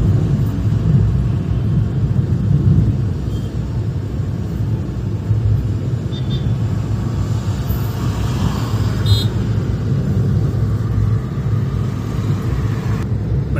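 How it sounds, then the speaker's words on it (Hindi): A Maruti WagonR car drives on a road during a driving lesson, heard from inside as a steady, loud low engine and road rumble throughout, with no talk. "अभी कौन से गियर पे आप कार चला रहे हो मैम?"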